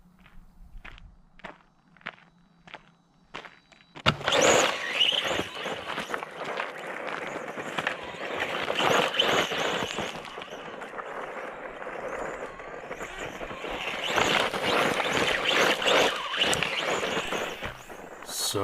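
A G-Force Xtrada 4wd belt drive RC buggy is first heard in a few brief clicks and revs, then runs offroad with a steady buzzing whine and gravelly scrabbling that rises and falls as it moves nearby.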